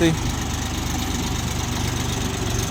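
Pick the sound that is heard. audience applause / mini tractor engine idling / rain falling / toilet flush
mini tractor engine idling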